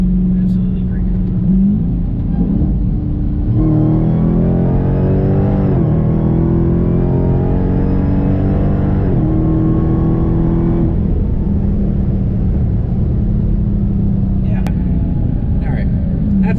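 A 1,000 hp Dodge Hellcat Redeye roars loudly at full throttle, its engine climbing in pitch through several rising pulls with gear changes, then settling to a heavy rumble; occasional voices sit beneath the engine noise.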